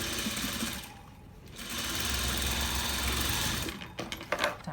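A sewing machine stitches down a zippered pocket in a quick, even buzz of needle strokes, pausing briefly near the start and stopping with a few soft clicks at the end.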